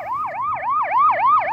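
Fire brigade siren wailing during a tsunami simulation drill, rising and falling in a steady repeating sweep about every quarter second, loud and close with no voices.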